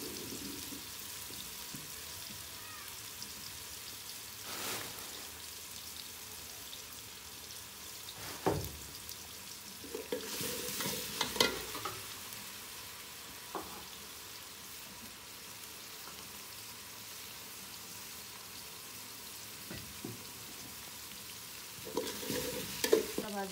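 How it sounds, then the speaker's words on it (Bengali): Spices with ginger paste and onion paste frying in oil for a Bengali snakehead fish and bottle gourd curry, a soft continuous sizzle with occasional stirring scrapes, faint and close, without talk. "মশলা ভাজা হয়ে গেছে, এখন পানি দিয়ে দিবে"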